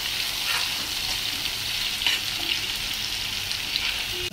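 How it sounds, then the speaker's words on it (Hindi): Onions frying in a pan for tomato chutney until just pink, a continuous loud close sizzle of hot oil with faint occasional stirring ticks and no voices over it. "फ्राई करेंगे। हमें इसे गोल्डन ब्राउन नहीं करना, ओनली पिंकिश कलर"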